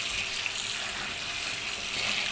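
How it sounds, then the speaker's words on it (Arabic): Continuous hiss of hot running water as dried dates are washed, an even, close splashing rush of tap water that holds steady throughout with no talk. "دلوقتي بقى هغسل البلح بميه سخنه"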